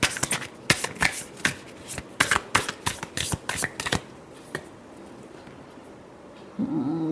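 Tarot cards shuffled by hand in a rapid run of crisp riffling slaps for about four seconds, then a single flick and quiet room tone, with a faint voice creeping in at the very end.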